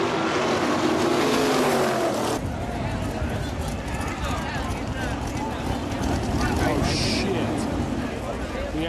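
Supermodified race cars roar around an oval at a main event, a dense, continuous engine drone with loud crowd and announcer-style talk layered over it throughout.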